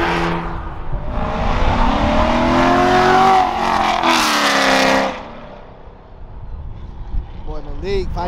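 A car with an aftermarket exhaust revs hard and loud nearby while leaving a car show in Raleigh, North Carolina, climbing in pitch, then drops away abruptly; a brief quieter rev and faint voices follow.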